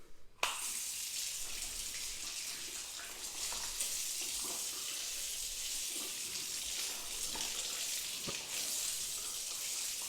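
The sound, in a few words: rinsing car panels off with water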